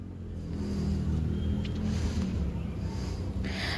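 A sewing machine stitches evenly spaced lines across a cloth mattress cover made from an old saree and dupatta, its motor giving a steady, close, low mechanical whir that runs without a break.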